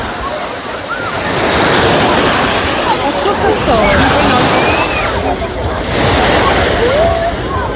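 Sea surf at Arcadia beach by Portofino, with waves breaking and washing in a steady loud roar that swells and eases, with wind on the microphone and people talking over it.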